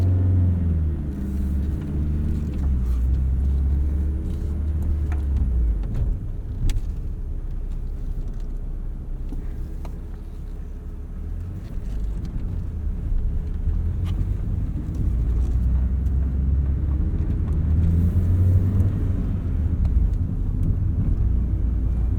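A 1988 Honda Accord LXi with a five-speed manual gearbox drives along, its engine hum and road rumble a steady, loud, low drone throughout with small shifts in pitch as it runs.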